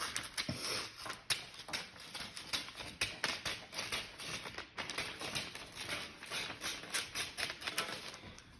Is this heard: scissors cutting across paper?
yes